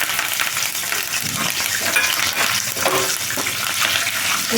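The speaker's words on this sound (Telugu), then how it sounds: "ఈ వెల్లుల్లిపాయలు మంచి కలర్ వచ్చేంత వరకు వేయించుకుంటామా" Continuous loud sizzling and crackling of crushed garlic and curry leaves frying in hot oil, with occasional stirring scrapes, close up and without talk.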